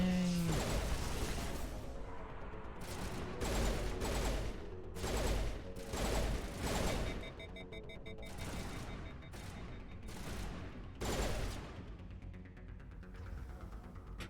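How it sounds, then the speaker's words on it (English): Burst pistol fire in the sci-fi game Mass Effect: loud, sharp bursts of shots repeating every second or so in a steady rhythm, with mechanical hum between them and little talk. "it's a burst pistol, right?"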